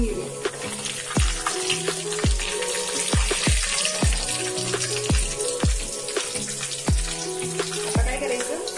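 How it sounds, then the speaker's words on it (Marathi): Two spoonfuls of cumin seeds fry in hot oil in a pan for jeera rice, giving a continuous bright sizzle broken by regular dull thuds of the pan or spoon, close and loud. "मी ते 2 चमचे जिरे घातले. मस्त जिरे लालसर हलून गेले."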